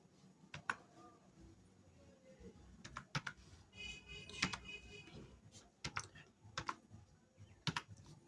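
A computer keyboard being typed on while filling in a captcha on an online form, with irregular quiet key clicks in short bursts and pauses, close and faint.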